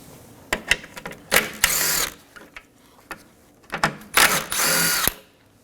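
Hand ratchet and tools loosening the last two 10mm bolts on the front upper bumper support of a 2015-2023 Nissan Maxima, heard as bursts of rapid clicking and mechanical rattling separated by short pauses, close by with no talking.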